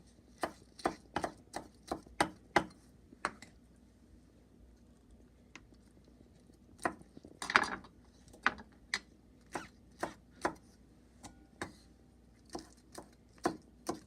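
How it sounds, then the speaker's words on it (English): A knife slices vegetables into pieces on a cutting board for Buddha's Delight, making crisp, distinct chops in quick bursts separated by short pauses, close and clear against a quiet background. "And you want to slice it into pieces."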